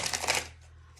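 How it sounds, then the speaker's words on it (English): Tarot cards are shuffled in a brief, close, papery riffle that fades out within half a second. "I'm shuffling through the cards as we go."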